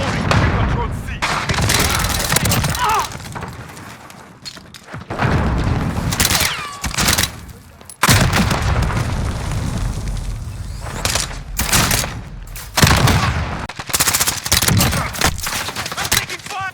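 Dense, loud gunfire and booming explosions from a Call of Duty Ground War match, with submachine gun bursts, thuds and blasts running nearly continuously, broken by a couple of brief quiet gaps.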